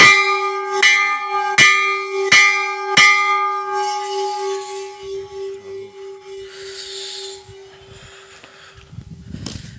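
A small hand bell is struck about five times in an even rhythm during the opening seconds, ringing clear and close. Its tone then fades away into quiet room sound.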